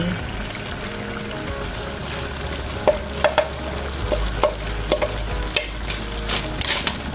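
Malunggay leaves being stirred into simmering coconut milk with sihi shellfish, the spoon scraping and clinking against the pot in a string of short knocks over a low bubbling background.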